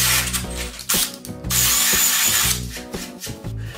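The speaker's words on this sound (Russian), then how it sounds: "отмечаю разметки и сверлю отверстие 12 мм." A power drill boring a 12 mm hole through a plywood corner block, loud and close, with whirring bursts, ratcheting clicks and brief pauses between pushes.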